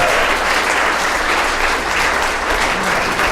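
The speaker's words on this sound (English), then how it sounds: "give him a round of applause, guys" Sustained applause from wedding guests for the groom after a toast, a dense, steady wash of clapping that stays loud and even throughout.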